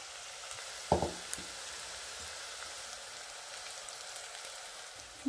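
Onion pakoda batter for kanda bhaji dropped into hot oil in a kadai, giving a steady, faint sizzle with one brief louder splash of frying near the start.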